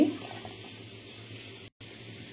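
Water pours steadily from a tap into a mixing container while a ground rice, coconut and ginger paste is being made, with a short cutout near the end.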